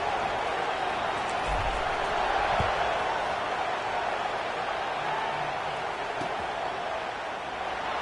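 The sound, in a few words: football crowd buzzing after a score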